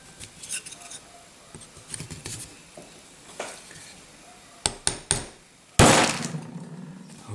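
Hammer taps on a vintage Oreston 1.8/50 camera lens during a repair, a few sharp metallic knocks separated by pauses, the last one louder and ringing briefly, close to the microphone.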